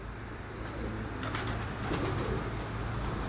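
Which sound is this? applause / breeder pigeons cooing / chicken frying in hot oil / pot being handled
breeder pigeons cooing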